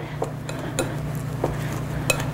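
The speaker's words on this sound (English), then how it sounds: "So we're gonna whisk this together." A whisk clinking against the side of a bowl while dry ingredients for poppy seed bread, including baking powder and sugar, are mixed: a few light, uneven metallic taps close by over a low background hum.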